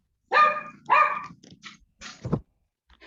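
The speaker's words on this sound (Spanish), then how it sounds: "el perrito se está animando" A small dog barks two sharp, high yaps close by, followed by softer scattered yips and huffs in an otherwise quiet room.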